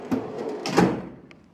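A drawer of a Snap-on KRL 55-inch toolbox slides open or shut with a metallic rolling rumble and a couple of knocks, ending in a small rattle as it settles.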